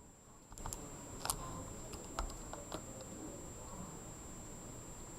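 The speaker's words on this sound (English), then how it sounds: "we're going to use our calculator for all of these. Okay, we're just going to type it in" Numbers tapped into a calculator, a few sparse, sharp clicks spaced apart over a steady faint background hum, close and fairly quiet.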